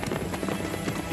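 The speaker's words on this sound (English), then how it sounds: "The horses bolting away." Hooves pound rapidly on the ground, a quick running rhythm of horses moving at speed, heard briefly amid a dense, noisy background.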